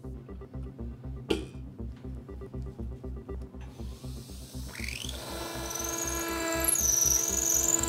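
A 3.6 mm dental implant E drill mills into medium-density bone, a rapid, regular motor pulsing that shifts into a rising, higher whine, close and fairly quiet, with no talk.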